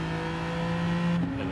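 A race car engine in Gran Turismo 7 pulls hard under throttle, a loud sustained buzzing drone that shifts pitch briefly near the end, close and without voices.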